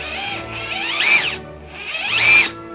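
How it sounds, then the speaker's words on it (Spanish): A modern Ryobi cordless drill running on a lithium battery gives two whining bursts. Each rises to a high-pitched spin, then cuts off, close and loud with a steady motor hum between them. "También tengo otro taladro Ryobi moderno que funciona con este tipo de batería"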